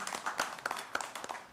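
At a Washington County, Tennessee government meeting, an audience gives a brief, light round of clapping to welcome Charlie Tester, soft and quick patters heard from a distance.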